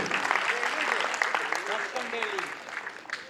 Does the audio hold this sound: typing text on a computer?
no